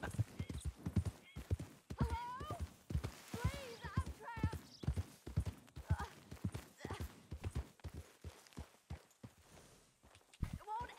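Horse hooves clip-clop at a steady walking rhythm in Red Dead Redemption 2, with a neigh partway through and a voice talking over the steps.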